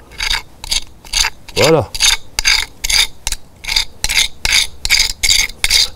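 A triangular-blade scraper rasps moss off a surface in about a dozen quick, rhythmic strokes, each a loud, close scratch with short gaps between. A voice speaks briefly.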